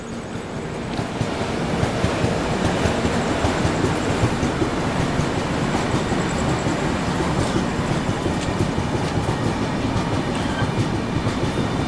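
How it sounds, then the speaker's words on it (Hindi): A Dhanbad special train runs on a parallel track, a loud, continuous rumble and rattle of wheels with steady clickety-clack, close by and without voices. "अब पैरेलल शुरू हो गया है यहाँ पर स्पेशल ट्रेन के साथ"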